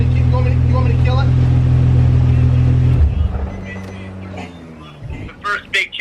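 A Nissan 350Z running on a Link standalone ECU idles with a loud, steady low rumble for three seconds, then the engine is shut off and dies away, leaving faint room noise and brief voices.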